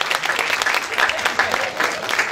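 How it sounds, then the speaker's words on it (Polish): Audience at a WOŚP charity auction in Gdynia breaks into brief, lively applause, a dense patter of clapping from a crowd indoors with a voice heard over it. "Wielkie brawo."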